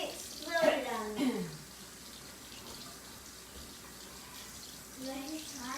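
A tap runs while hands are washed at a home kitchen sink, a soft, steady flow of water with voices talking over the first seconds.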